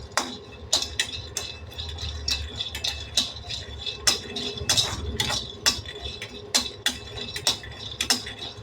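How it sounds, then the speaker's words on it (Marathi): Peanuts dry-roasting in a pan, stirred so the hard nuts rattle and tick against the metal in quick irregular bursts, close and continuous with no talk. "शेंगदाणे असे खरपूस छान भाजून घ्यायचे आपल्याला."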